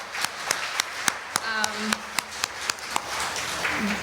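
A few people at a church annual meeting give a short, sparse clap, single hand claps landing in a loose, steady rhythm, fairly close and quiet over room hum.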